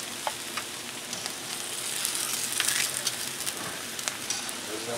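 Street taco tortillas sizzling in a little oil on a Blackstone griddle, a dense steady hiss with scattered crackles and pops that swells slightly midway, close and alone.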